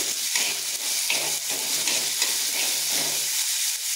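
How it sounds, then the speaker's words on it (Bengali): Washed mung dal fries in hot oil in a pan, a loud, steady sizzling hiss broken by rhythmic stirring scrapes roughly every half second, close up and without speech. "মুগ ডাল ধুয়ে রেখেছিলাম, সেটা একটু এর মধ্যে দিয়ে দিলাম। একটু তেলে ভেজে নেব।"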